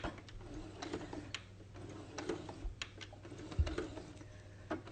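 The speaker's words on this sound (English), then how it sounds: "using that back stitch button on my sewing machine" Rapid mechanical stitching clatters steadily at close range as a sewing machine back-stitches a fabric face mask, with short bursts and brief pauses as it runs back and forth.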